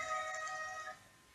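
A mobile phone rings briefly with a tonal electronic ringtone at low level, fading out after about a second, with no talk over it.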